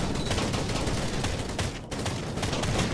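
Sustained rapid gunfire from the video game Angels Fall First, a dense steady stream of soft popping shots like a large paintball skirmish, loud and continuous with a brief lull near the middle.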